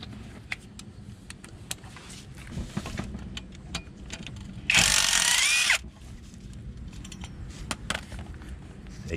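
A power drill drives out an 8mm bolt on a compressor lid, giving a single loud, steady whir of about a second amid quieter workshop clatter and scattered tool clicks.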